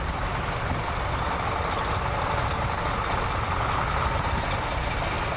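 A bus at a classic bus show at Duxford, its engine running with a steady, broadband rumble and hiss that persists without a break, fairly close and with no voices over it.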